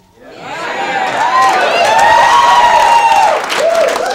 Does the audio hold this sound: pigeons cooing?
no